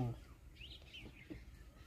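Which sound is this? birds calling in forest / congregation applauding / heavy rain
birds calling in forest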